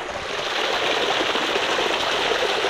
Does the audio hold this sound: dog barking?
no